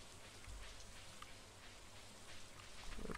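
Rain falls in the Stardew Valley video game as a soft, steady patter of drops, quiet and even throughout, with a faint low hum beneath and no speech.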